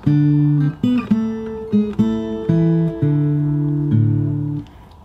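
Plucked fingerstyle guitar notes ring out in a slow melody from a Beauty and the Beast song, with sustained low bass tones held underneath and higher notes added on top, played cleanly without any voice.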